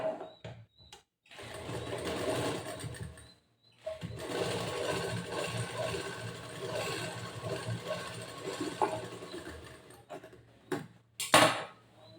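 A sewing machine stitching a blouse sleeve runs in two steady mechanical bursts, a close whirring rattle that stops and restarts, with brief pauses and a sharp click near the end.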